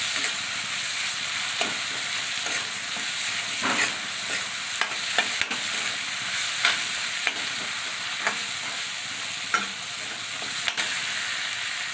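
Masoor dal pakoda mixture fries in a pan with a constant sizzling hiss, broken by intermittent scraping and tapping strokes of a stirring utensil, close-up and steady throughout with no voices.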